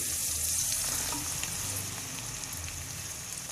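Green chilies and spices frying for a green chili pickle, giving a dense, continuous hiss of oil sizzling up close, with faint stirring underneath.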